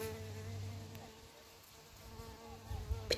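A faint, steady bee buzz hums close by in the countryside, a continuous droning tone with a slight wavering pitch in a quiet setting.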